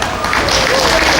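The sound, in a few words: applause, clapping for a mother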